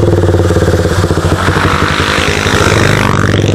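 A Raider motorcycle engine revs loud and close, a throbbing, rattling exhaust note that climbs in pitch as the throttle opens, with no talk over it.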